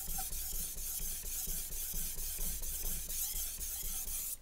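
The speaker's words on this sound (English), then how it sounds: "they go on their polishing stone and they will polish it the same way they sharpen it" Steady rhythmic scraping as a Wusthof Santoku knife is stroked across a Japanese polishing whetstone, the strokes repeating in an even back-and-forth pattern, close and soft with no voices.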